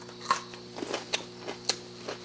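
Bites into crunchy-bottomed homemade beer bread, with a handful of sharp crackling crunches spaced irregularly and close to the mic, over a steady low hum.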